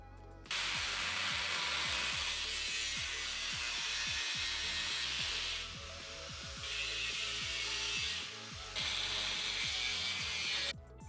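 Power cutting into the inner fender well of a station wagon, a continuous harsh buzzing with rapid clicking pulses, briefly dropping in intensity twice before resuming, close and steady throughout.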